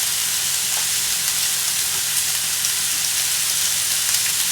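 Tontoro pork jowl grills in a pan over medium heat, giving a steady, even sizzle with a bright continuous hiss and faint crackles and no talking.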